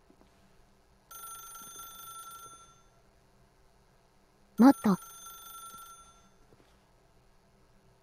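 Telephone ringing in The Stanley Parable: two bright electronic rings, the first lasting about two seconds and the second a sharper, louder burst, over a quiet room with a faint voice speaking.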